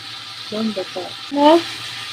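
Cinnamon dropped into a generous amount of hot oil in a pot, sizzling softly under a steady background hiss, with brief tonal squeaks from stirring or the pot.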